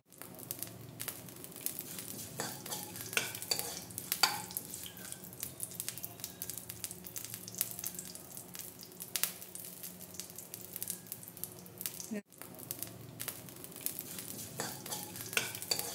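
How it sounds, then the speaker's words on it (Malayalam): Sesame seeds are dry-roasted and stirred in a pan while making aval vilayichathu, a sweet flattened-rice snack. A steady close scraping and crackling runs throughout, with a brief break near the end. "ഇനി നമുക്ക് കുറച്ച് എള്ള് വറുത്തെടുക്കാം."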